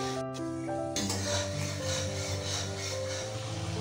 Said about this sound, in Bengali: সবকিছুকে একসাথে ভালোভাবে কষিয়ে নেব